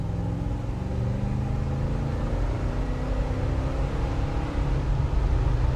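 Stock 1969 Chevy Caprice with a stock-sounding exhaust, the engine rumbling and rising in pitch as it is taken manually through the gears, a shift heard partway through, sustained and fairly close.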